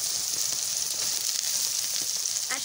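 Soaked soy chunks sizzle steadily in hot oil in a frying pan, a continuous close hiss and crackle throughout with a few brief stirring scrapes near the end.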